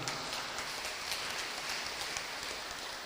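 A church congregation at an HKBP Bogor Advent Christmas service for the elderly applauds steadily, a dense, even hiss of many hands heard from a distance without pause.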